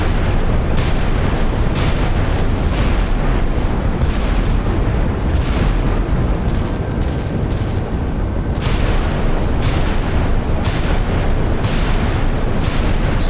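Heavy naval gunfire and blasts rage in the Sea Power naval combat game, with a Zumwalt destroyer engaging Iowa battleships in a continuous loud barrage of booming shots and explosions, dense and overlapping, with no talk.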